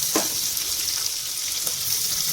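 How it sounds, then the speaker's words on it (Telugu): Onions frying with salt in a pan while making mushroom biryani, a steady close hiss of sizzling oil with a couple of soft stirring scrapes, no talking. "సాల్ట్ వేసుకుంటున్నాను కొద్దిగా బాగా వేగుతుంది ఉల్లిపాయ కలర్ వస్తుంది"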